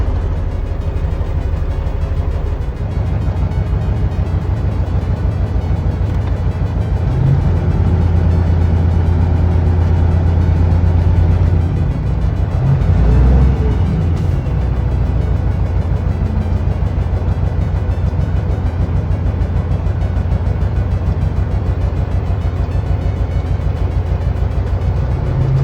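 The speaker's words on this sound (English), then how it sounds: "Truck running very rough, man. Idle very rough." A semi truck engine idling very rough, a loud steady low rumble with uneven pulsing and a brief surge partway through, running alone without talk for about twenty-five seconds.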